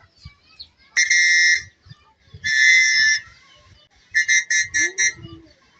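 A whistle blown in two long shrill blasts, then a rapid series of five short toots, loud and close, with faint low rustling between.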